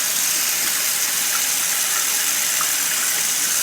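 Warm water runs steadily from a tap into a sink, a close, constant hissing gush with no talk.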